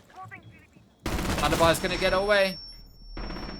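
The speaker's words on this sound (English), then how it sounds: "Gunfire goes out." Gunfire from a Rainbow Six Siege match, a dense burst of rapid shots lasting about a second and a half, then a shorter burst, with a caster talking over the start.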